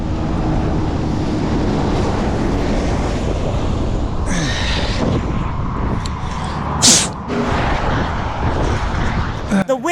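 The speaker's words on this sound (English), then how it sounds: "The wind is so strong that it just dries my mouth from the inside when I open it." Strong wind buffeting the microphone while riding an electric bike through the Russian countryside, a loud continuous low roar with a few sharper gusts and rustles near the end.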